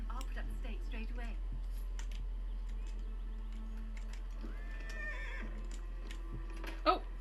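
A horse whinnies faintly in a video game amid soft game sounds and scattered clicks, ending with a short, sharp noise.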